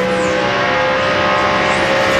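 NASCAR stock cars race at the 2002 Pennsylvania 500, a loud sustained engine roar with a steady high whine and Doppler sweeps as cars pass close by.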